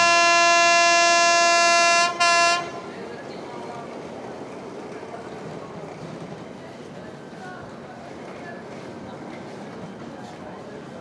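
The 16332 Express pulls out of the station. A loud, sustained, harmonic train horn sounds with a short break, then gives way to a low rolling rumble of the moving carriages, heard from on board.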